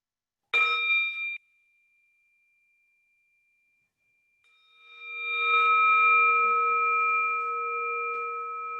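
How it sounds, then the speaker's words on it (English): A meditation bell rings out with a bright, sustained tone that fades into near silence, then a second strike swells and hangs, resonating steadily to the end. "Why don't we have a sound of the bell?"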